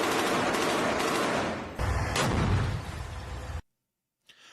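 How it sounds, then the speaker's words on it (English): Rifle grenades fired in war footage from Jabalia, sounding as a dense, loud burst of gunfire and blasts that continues without a break, then cuts to silence, followed by a faint brief sound at the end. "we see a rifle grenadier firing rifle grenades"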